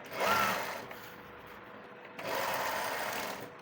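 Two short runs of a sewing machine stitching a buckram strip for a salwar, close and moderately loud, separated by a brief quieter gap.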